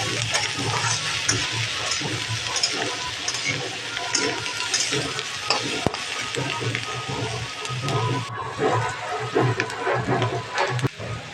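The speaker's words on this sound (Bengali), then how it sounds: "এবার দেখো আমি আপেল আর যে শশাটা কেটে রেখেছি এটা দিয়ে দিলাম এবার এটা দিয়ে একটু ভেজে নিব আমি ভালো করে" Pieces of apple and cucumber fry in a pan, a busy, fluctuating sizzle mixed with stirring scrapes and bubbling that continues steadily throughout.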